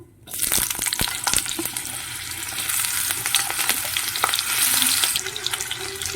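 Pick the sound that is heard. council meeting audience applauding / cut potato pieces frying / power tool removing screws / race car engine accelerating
cut potato pieces frying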